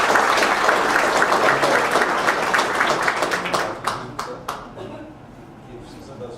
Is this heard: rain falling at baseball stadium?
no